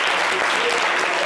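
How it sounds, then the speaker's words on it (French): Studio audience on a French-language TV show applauding loudly, a dense continuous wash of clapping filling the whole moment, close and steady. "Applaudissez-le bien fort."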